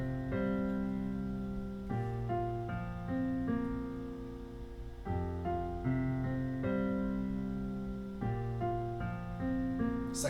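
Sustained worship underscore pad played in Logic Pro, warm layered chords shifting every couple of seconds in a slow, steady progression, full and even throughout with no voices.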